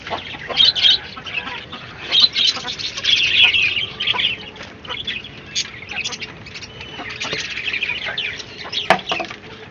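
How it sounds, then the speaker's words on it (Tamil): A rooster and native country chickens on a Chennai rooftop terrace cluck and call in repeated bursts, fairly close, amid light rustling and occasional clanks. "சேவல் தான் முன்னே வருவார்"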